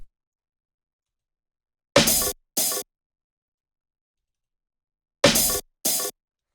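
Two pairs of short, bright, noisy bursts separated by silence, crisp and textured like a layered percussion hit, repeating the same two-stroke pattern.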